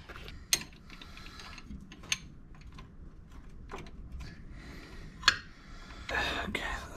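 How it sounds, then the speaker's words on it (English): Clicking and ratcheting come from a wrench working on the gearbox oil filler plug of a 1985 Porsche 911. Sharp metallic clicks are spaced irregularly over faint whispering and rustling, followed by a brief scraping burst at the end. "First I'm going to undo the filler, actually, just to make sure it undoes okay."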